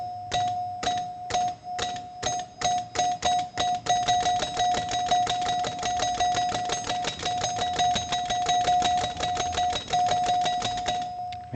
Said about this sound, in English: Maybe I'll disconnect the chime.